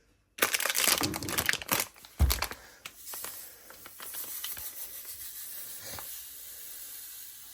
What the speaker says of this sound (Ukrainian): Тепер сюди додаємо 75 грамів мальної крупи.